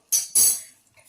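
A spoon moves carrot halwa around a pot, giving two quick metallic clanks close together and then a faint tap, near and otherwise quiet.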